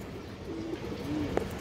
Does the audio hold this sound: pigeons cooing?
yes